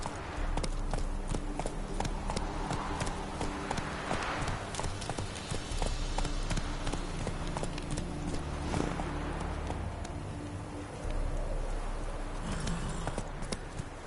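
Horse hooves galloping in The Witcher 3, a rapid, continuous clip-clop beat close up with a faint background bed, and a voice speaking briefly in the background.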